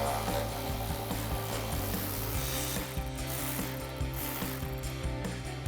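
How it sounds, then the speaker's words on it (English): A ratchet with extension and 10mm socket backs out a bolt on the intake of a 2024 Mustang GT, a rapid run of close, crisp clicking pawl strokes repeated steadily throughout. "Grab a ratchet extension, 10mm socket, take that out."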